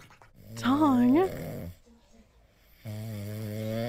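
An animal snores in two long, loud, droning breaths with a short quiet gap between them, heard up close.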